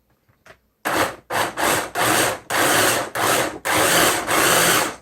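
A blender roars loudly in a series of short bursts while blending champurado, stopping and starting about seven times with brief gaps, close by and with no talking.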